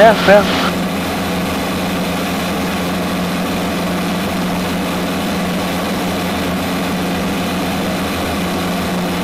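A Zenith CH 750 Cruzer light aircraft's engine drones steadily in flight at cruise power around 2500–2600 RPM, a loud, constant cockpit hum with a brief rustle at the start.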